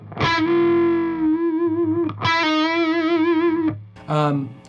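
Distorted electric guitar notes with a half-step bend, sustained and wavering with vibrato, three phrases separated by brief gaps.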